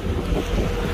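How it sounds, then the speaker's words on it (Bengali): A trawler boat motoring through a canal toward a river mouth opening onto the Bay of Bengal, with a steady, loud low rumble blended with wind buffeting the microphone and water wash throughout. "খালের ভিতর দিয়ে ট্রলার চলতেছে"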